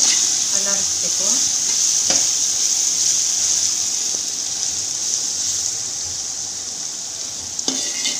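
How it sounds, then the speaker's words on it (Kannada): Vegetables and masala fry in a pan for vegetable pulao, a loud, constant close-up sizzle with a few soft clinks and scrapes as the mix is stirred. "ಹಸಿ ವಾಸನೆ ಹೋಗಿ ಈಗ ಫ್ರೈ ಆಯ್ತಾ ಇದೆ."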